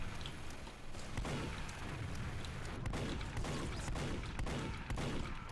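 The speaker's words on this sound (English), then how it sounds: "I'm gonna shoot the soldier." Team Fortress 2 gameplay fills the clip with dense rapid gunfire and booming blasts, a steady loud barrage of shots with no clear speech.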